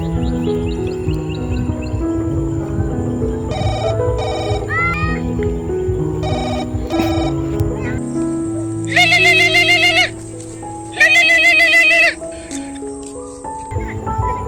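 A phone rings while calling a friend: bursts of a loud electronic ringtone sound in two rings near the end, after a stretch of background music.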